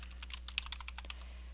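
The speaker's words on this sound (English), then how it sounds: "hit enter on your keyboard" Quick, light clicking of keys being typed on a computer keyboard, a short burst of taps close up over a low steady hum.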